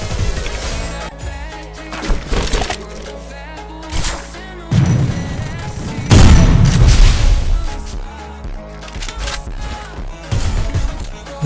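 Gunfire and explosions in a shooting video game, with loud booming blasts and bursts of shots over game music, the heaviest impact about halfway through.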